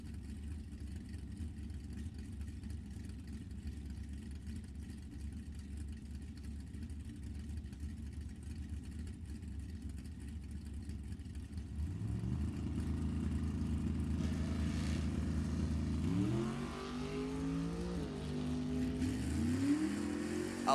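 Drag racing cars, a 1938 two-door Chevy sedan and a 1971 Camaro, at an NHRA Summit Racing Series E.T. Finals: a steady loud engine drone that swells into revving acceleration partway through, with rising and falling engine pitch near the end.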